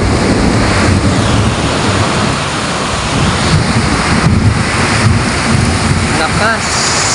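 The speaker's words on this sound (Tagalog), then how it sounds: "Ulan lang yan, akala mo bagyo" An afternoon downpour of heavy rain roars as a thick, unbroken hiss, buffeted by gusting wind, with a few faint voices underneath.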